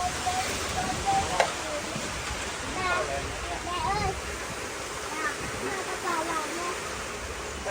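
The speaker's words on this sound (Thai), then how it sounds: "ฝนตกแล้วพี่น้องเอ้ย" Steady rain pouring down, a dense even hiss with faint watery splashing underneath, close and constant throughout.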